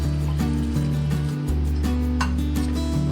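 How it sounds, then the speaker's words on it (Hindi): Half a glass of water pouring into a pot of aloo gosht with finely chopped onion, a close, steady splashing fill with a slight rising gurgle, alone and without talk. "इसमें हमने आधा गिलास पानी"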